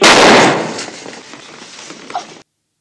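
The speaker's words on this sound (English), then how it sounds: "Oh my god, did she shoot him?" A gunshot from the 1965 film Doctor Zhivago: one loud, sharp blast at the start, decaying into a reverberant tail and fading out within about two seconds.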